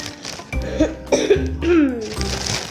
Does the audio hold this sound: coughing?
yes